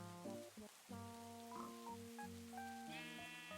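Several sheep in a cute Minecraft-style crafting game bleat in quick, overlapping calls, clear and close against light game ambience that sounds like rain, with no talking.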